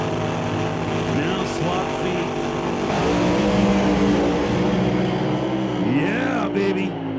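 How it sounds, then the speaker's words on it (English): Drag race car staging at an ET series race, engine held at high revs with rising and falling harmonic sweeps as it creeps forward, someone talking over the roar. "Listen to this thing get staged. All kinds of RPM before he lights that second ball."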